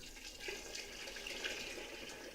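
Water poured into a cooking pot, roughly a couple of quarts, a continuous close rushing stream lasting the whole moment without any talking.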